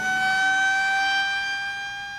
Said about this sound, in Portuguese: E termina quando a sirene avisa que é hora de descanso.